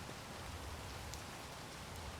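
Rain in the Space Engineers survival game makes a steady, faint wash of falling rain, an even hiss that continues unbroken throughout.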